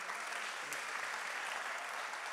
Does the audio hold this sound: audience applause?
yes